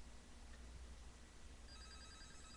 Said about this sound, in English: Imagine that, the motherfucking phone ringing.